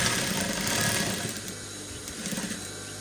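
A sewing machine stitches a waistcoat jacket, its fast mechanical whirr running steadily and close up for about three seconds without a break.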